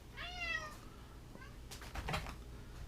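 A domestic cat gives one clear, rising-falling meow near the start, followed by faint clicks and handling noises in a quiet room.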